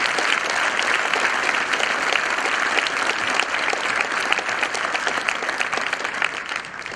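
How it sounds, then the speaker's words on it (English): Sustained applause from a school audience at a Veterans Day assembly, a dense, steady wall of many hands clapping that carries on for several seconds before starting to thin and fade. "Let's give him another round of applause."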